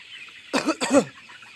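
Two short, raspy bursts close by, like a 35-day-old chicken's clucking or a cough, on a poultry farm, over quiet background hiss.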